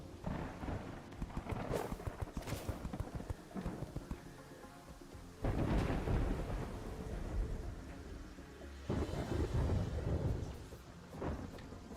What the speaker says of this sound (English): So storming and rain